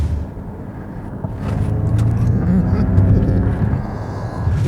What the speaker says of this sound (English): when he did accelerate, Ford does have their performance sound enabled